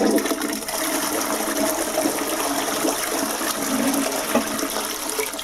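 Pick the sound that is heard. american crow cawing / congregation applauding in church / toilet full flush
toilet full flush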